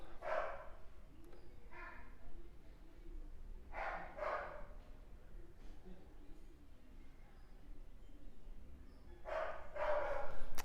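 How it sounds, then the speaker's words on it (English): Household dogs barking in bursts: several spaced clusters of moderately near woofs and yips, with quieter noise between them, growing a little louder near the end. "Oh, my dogs are so loud."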